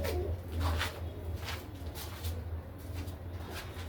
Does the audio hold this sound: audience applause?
no